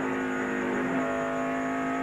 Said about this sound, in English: Listen to how easy they roll on the throttle here.